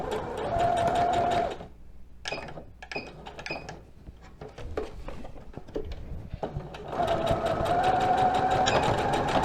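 A domestic sewing machine runs a short safety backstitch with reverse stitching on a doll jumpsuit: a bright whirring run, a pause with small clicks and handling noises, then another steady whirring burst.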